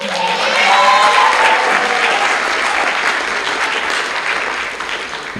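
Loud audience applause at a college athletic awards banquet, steady clapping from a sizable crowd filling the room throughout with a brief early voice.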